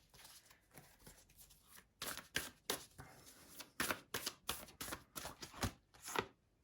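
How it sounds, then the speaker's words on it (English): Tarot cards being shuffled by hand, close and quiet, in a run of sharp riffling bursts and soft flicks with short pauses between, and no talking. "You saw me shuffle these cards."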